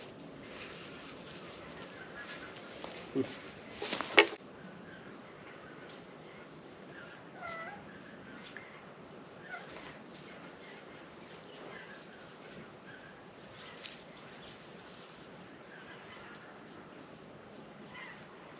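Cats meowing faintly near a farm as someone offers them milk from a bottle, a few short soft cries scattered across a quiet background.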